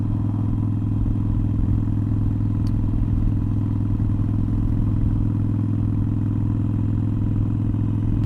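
Harley Iron 883 motorcycle engine lugging in fifth gear at about 55 mph, a steady low rumbling drone with wind noise throughout, constant and unbroken.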